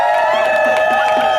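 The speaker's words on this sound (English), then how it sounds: "Please give a round of applause for Kamal Walton." Crowd at an outdoor demonstration clapping and cheering for a speaker coming up, a dense, steady wash of applause with scattered whoops throughout.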